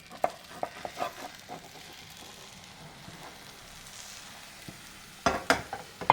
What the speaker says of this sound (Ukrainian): Даємо на сковорідку трошки масла. І підсмажуємо наступну сторону.